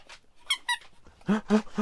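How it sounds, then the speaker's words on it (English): A dog plays with a squeaky toy indoors, sending out a few sharp, high squeaks in quick pairs, the last two louder and closer, with no talk over them. "This is his squeaky toy."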